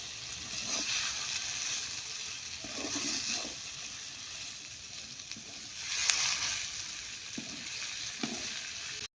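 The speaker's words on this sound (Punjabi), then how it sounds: "ਕੱਟੀਆਂ ਹੋਈਆਂ ਸ਼ਿਮਲਾ ਮਿਰਚਾਂ ਮਸਾਲੇ ਦੇ ਵਿੱਚ ਸਾਰੀ ਦੋਨਾਂ ਚੀਜ਼ਾਂ ਨੂੰ ਮਿਕਸ ਕਰ ਦਾਂਗੇ ਚੰਗੀ ਤਰ੍ਹਾਂ" Chopped capsicum is stirred into frying masala for a capsicum and onion sabzi, with a loud, constant close sizzle and occasional scraping strokes of a spoon through the pan.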